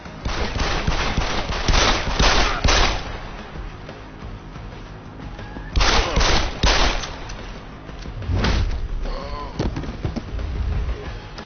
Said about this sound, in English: what about good old-fashioned gunfights?